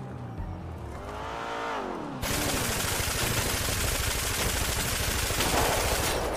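Heavy gunfire in a GTA V roleplay shootout near an apartment block intersection: after an engine revs and a vehicle passes, dense automatic rifle bursts crackle continuously at close range, loud and sustained.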